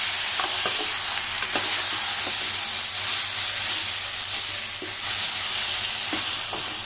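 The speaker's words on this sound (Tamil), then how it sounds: "இதை நல்லா ஒன்றா கலந்து வதக்கிடணும்." A ground paste of chili, coriander and coconut for arachuvitta sambar sautéing in a pan, a steady close hiss and sizzle with scattered light scrapes from stirring, no talking.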